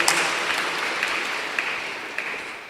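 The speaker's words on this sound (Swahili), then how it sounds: "tuwapigie makofi" A church congregation at a Kikuyu-language service claps together, a steady, moderately loud spread of applause from the gathered worshippers, with no voices over it.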